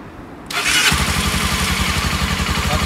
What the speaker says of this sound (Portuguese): Liga a moto pra ela.